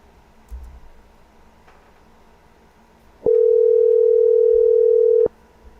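Steady telephone dial tone, a loud pure hum that starts abruptly, holds for about two seconds, then cuts off, over a quiet background.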